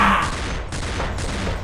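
Rapid bursts of gunfire from a shooting video game ring out in quick succession, sharp repeated cracks over a dense, noisy background with no clear speech.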